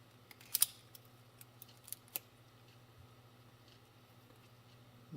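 Scissors snip through zip ties during reassembly of a Yamaha YL1 motorcycle's shifter and kickstarter: a few faint, sharp clicks spread over several seconds against quiet room hum.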